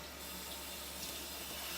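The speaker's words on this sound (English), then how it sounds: "Give my good board a rinse." Tap water runs steadily onto a kitchen cutting board being rinsed in a sink, a soft continuous wash of splashing that holds at an even, close level for under two seconds.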